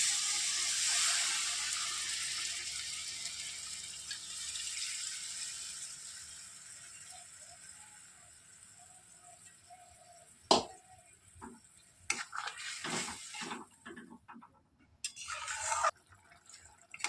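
Tomato, soy and chilli sauce sizzles and bubbles in a pan, steady and close at first, then fading, with a few clattering knocks and stirring noises toward the end.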